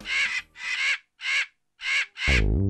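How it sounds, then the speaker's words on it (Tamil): A cartoon crow caws five times in a loud, close, evenly spaced series of harsh calls, the last one blending into a deeper voiced tone. "ஆமா, அது காக்கா தான்."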